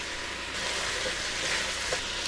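Sliced onions cooking down in oil in a pot with salt, pepper and sugar, a steady soft sizzle and bubble with a faint stir or two, no talking.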